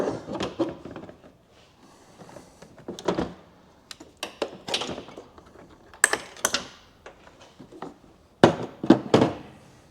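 A car headlight assembly is worked loose and pulled out after its three bolts are removed, giving a run of close plastic clicks, knocks and scraping handling sounds with sharper snaps near the end.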